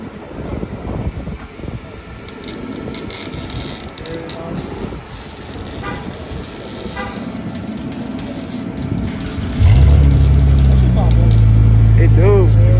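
A 2018 or 2019 Dodge Charger with a straight-pipe exhaust fires up after several seconds of chatter and outdoor noise, settling into a loud, deep, steady rumbling idle that dominates the end.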